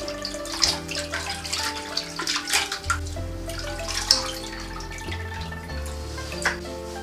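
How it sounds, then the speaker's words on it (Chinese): Mutton being rinsed by hand in a basin of clean water to wash off flour, with continuous splashing and sloshing plus occasional drips, close and moderately loud with no talking. "再换入干净的清水，把羊肉上的面粉洗干净就可以了。"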